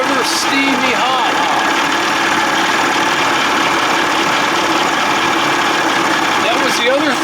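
A 1979 55 hp Evinrude outboard motor idles steadily and loud at close range, its even running sound carrying throughout, with a person talking over it.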